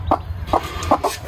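A hen clucks in several short bursts, close and fairly loud, with a low background hum.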